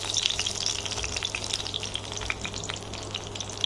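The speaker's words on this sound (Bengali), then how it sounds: "শুকনো মরিচগুলো আমি একটু লাল করে ভেজে নেব।" Dried red chillies fry in hot oil with a steady, close crackling sizzle and dense spitting pops throughout, with no voices.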